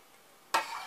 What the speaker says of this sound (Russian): Перемешиваю.